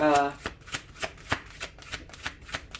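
Tarot cards being shuffled by hand in a steady series of crisp riffling flutters, close and fairly quiet, with a brief voice at the start.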